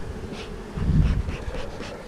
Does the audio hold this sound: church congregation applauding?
no